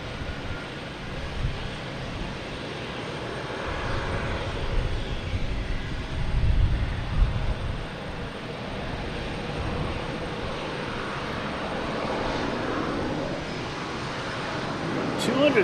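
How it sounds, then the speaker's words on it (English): A JetBlue airliner arriving at Boston Logan from Montego Bay gives a steady distant engine rumble that swells a little midway, with people talking over it. "What's this one coming in here? We have a JetBlue coming in from"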